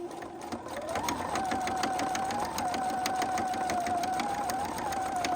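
A sewing machine stitches a pant hem in a steady, rapid mechanical rhythm with a whining motor tone, running continuously and close up throughout.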